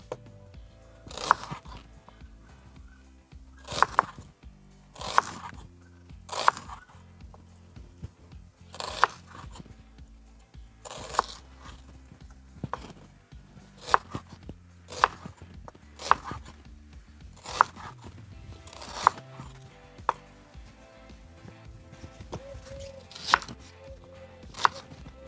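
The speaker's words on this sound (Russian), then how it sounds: "Лук нарезаем полукольцами." A knife cuts an onion into half rings on a board for a Georgian ojakhuri dish, a series of crisp chopping strokes arriving in irregular bursts, close and distinct with quiet gaps between.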